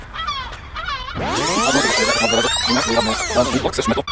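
Loud, raucous calling from a seagull, a few short squawks followed by a long, sustained series of harsh cries close by, with no one speaking.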